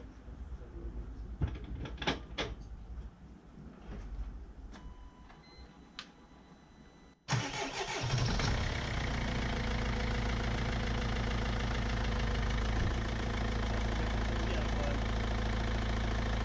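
A Mercedes C 220 coupé, suffering a water leak, cranks and catches at once after quiet fumbling and clicks, then settles into a loud, steady close idle with a constant mechanical clatter.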